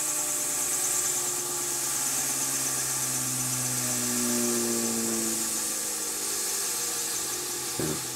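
Bedini motor flywheel rotor with 16 poles spinning down, a loud continuous whirring whine whose tones slowly glide downward as it loses speed, with a brief knock near the end.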